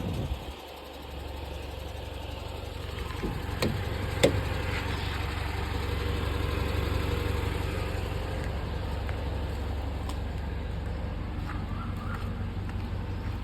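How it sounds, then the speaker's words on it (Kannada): An Eicher tractor engine idles steadily after arriving on new Rebel tyres, a continuous low rumble that holds throughout with a few brief clicks and knocks on top, no voices present. "ಇವಾಗ ಬಂದಿದ್ಯಲ್ಲ ಗಾಡಿ ಸ್ವಲ್ಪ ರನ್ ಆಗಲಿ"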